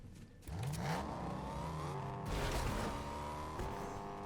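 Car engine in Fortnite rising and revving as a vehicle pulls up close, a steady whirring drone with shifting pitch sustained throughout.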